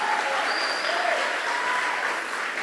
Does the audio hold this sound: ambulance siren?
no